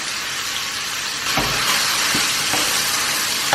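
Beef mince dropped into hot oil in a pan, a steady bright sizzle that swells louder as the meat goes in, with a few soft clatters of stirring.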